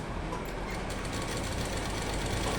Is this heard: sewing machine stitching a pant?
yes